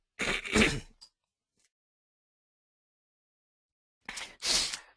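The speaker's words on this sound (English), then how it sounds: "I'll just pause the presentation when I have to clear my throat" A short, close throat clearing, then a few seconds of silence, then a second harsher throat clearing.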